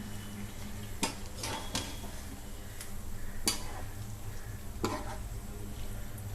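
A utensil stirs sorrel and mutton curry in a cooking pan, with a handful of sharp scraping clinks against the metal over a low simmering sizzle.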